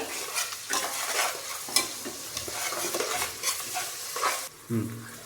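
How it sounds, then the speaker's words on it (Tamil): Onions sautéing with salt in a pan for Dindigul Thalappakatti biryani, a steady close sizzle with repeated scraping stir strokes throughout and a brief dip near the end. "அதான் வெங்காயம் பொன்னிறமாகிற வரைக்கும் வதக்கணும்"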